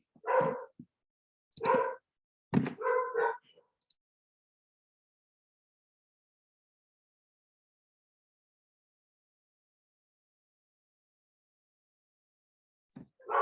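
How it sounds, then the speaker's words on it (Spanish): A female dog gives a few quick, close barks or yips in a cluster over the first few seconds, then falls silent, with one more short bark right at the end. "Me cerré para que la perra no haga tanto ruido"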